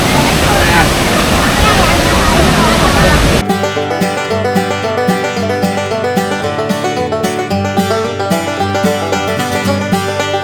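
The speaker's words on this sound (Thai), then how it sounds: "น้ำตกแล้วนะครับ" Waterfall at a riverside village at night, heard as a loud, dense rush of falling water that then gives way abruptly to loud music.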